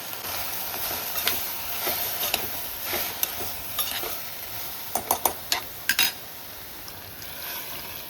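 A tomato soup mixture with red chili and salt is stirred in a cooking pot: a soft wet sizzle underneath with repeated sharp scraping and tapping strokes, clustering near the end.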